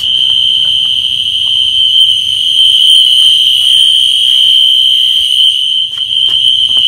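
A fire alarm panel system from 2016 sounds a loud, steady electronic tone, continuous for the full stretch with a brief dip near the end, and faint low rumbling beneath.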